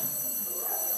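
Electric bells ring inside a hotel, a continuous shrill, steady ringing that fills the short moment loudly and alone.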